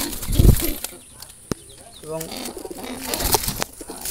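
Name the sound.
black Jalali pigeon cooing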